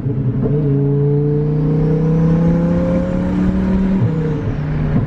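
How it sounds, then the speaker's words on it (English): A twin turbo Lamborghini Huracan engine revs up loudly as the car downshifts, holding a steady rising drone with a brief dip near the end, close and continuous with no talk. "he started downshifting and it starts getting, it starts waking up."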